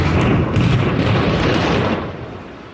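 Explosive demolition of tower blocks in Seaforth, Liverpool, heard as a deep, sustained rumbling roar from a distance that holds steady, then slowly fades over a few seconds.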